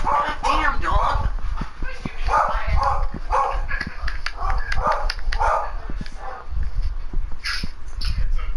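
A dog barking repeatedly in short yips and barks mixed with whimpers, fairly close, heard under and between people talking throughout.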